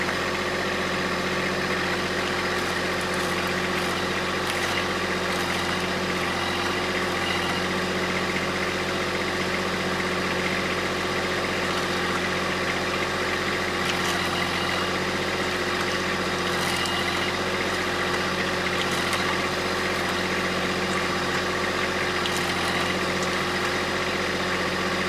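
An engine runs steadily while a Kranman hydraulic timber trailer pulls on a large hung-up tree in winter woods, a constant loud droning idle with no break and no talk.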